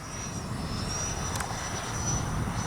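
Freewing 90mm F-15 RC jet with gear and landing flaps down on approach to a grass runway, a steady whining engine tone droning evenly and moderately loud throughout, with no voices.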